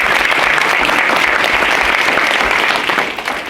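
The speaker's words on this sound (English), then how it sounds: "Let's give a round of applause" Audience at a community engagement panel gives a full round of applause, loud, dense clapping from many people that stays steady and then tapers off at the end.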